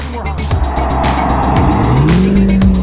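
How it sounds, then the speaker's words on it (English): A car engine revs loudly on a road close by, rising in pitch near the end, with tire noise and passing traffic blended into the roar and people talking over it. "Give you a little rev of the engine."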